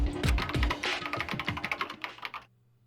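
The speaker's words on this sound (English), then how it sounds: "Kyoko began typing, the words appearing as fast as I could read them." Rapid keyboard typing in the Danganronpa video game, a dense run of quick close keystrokes for about two and a half seconds that ends abruptly, leaving a faint hum.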